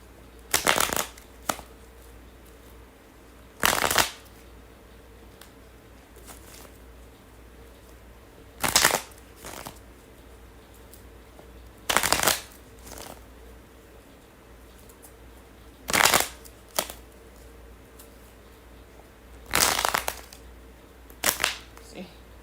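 Tarot cards being shuffled during a live reading, heard as about nine short crisp riffling bursts spaced a few seconds apart over a quiet room hum.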